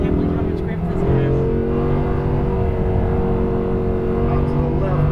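Audi R8 V10 engine pulling hard on a race track, a loud, sustained droning roar with climbing tones as it accelerates under full power, heard from inside the car.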